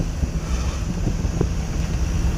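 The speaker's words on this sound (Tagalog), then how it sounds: "Pero ang hangin kusog-kusog sad." Strong wind buffets the microphone with a steady low roar and rumble, water and boat noise faintly underneath.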